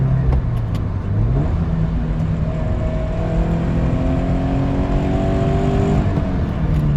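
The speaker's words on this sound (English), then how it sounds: "let me downshift just with the valves closed so you guys can hear what this sounds like" A Toyota GT86-type sports car engine drones loudly and continuously through a valved exhaust with valves closed, its pitch rising and falling through a downshift, heard from inside the car with no talking.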